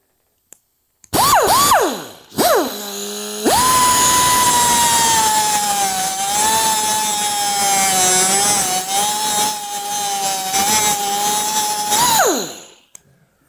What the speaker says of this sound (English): Then I take a cutoff wheel and we'll put the glove on so we have a little more safety.